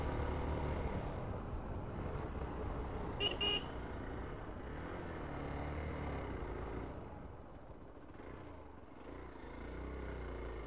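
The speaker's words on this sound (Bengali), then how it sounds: "এই টানগুলো তো হর্ন মেরে মেরেই যেতে হবে" A car horn gives a quick double toot on a winding mountain road near Sittong, sounded before a sharp turn. It stands out against a steady low rumble of the moving vehicle's engine and road noise.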